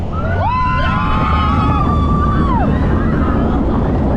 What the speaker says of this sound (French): Ah, le vent est frais, ça fait du bien.